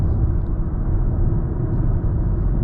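A 2024 Nissan Sentra drives over bumpy road, heard from inside the cabin as a steady, loud low rumble of tires and road noise, with no talking.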